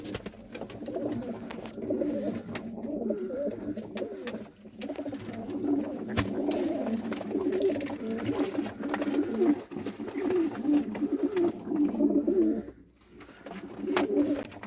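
Pigeons in a loft coo continuously, a low, rolling chorus of overlapping calls with occasional clicks and brief dips, fairly close and steady throughout.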